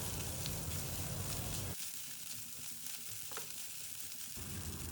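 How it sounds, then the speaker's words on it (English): Steamed rice tossed in a pan with butter and garlic, a quiet continuous sizzle with soft scraping and stirring, faint and steady without talk. "We'll stir and mix the rice until they are well incorporated with the flavors of"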